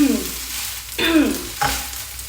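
Vietnamese rice noodles being stirred and fried in a pan, sticky noodles scraped around in a few distinct bursts over a steady sizzle.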